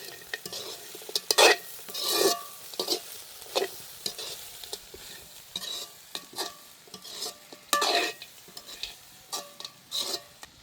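A meat mixture fries in a pan while a spoon stirs it, giving repeated scraping strokes against the metal over a soft sizzle, close and irregular with quiet gaps between strokes.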